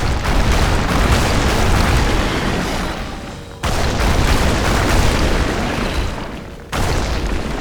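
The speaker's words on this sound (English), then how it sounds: "Oh, he's gonna breathe fire." A dragon breathes fire in the video game The Witcher 2: Assassins of Kings, two long, loud roaring blasts of flame, each about three seconds, with a short break between them.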